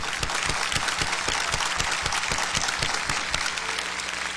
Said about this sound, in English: could we give them both a big round of applause?